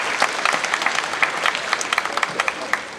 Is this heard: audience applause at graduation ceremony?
yes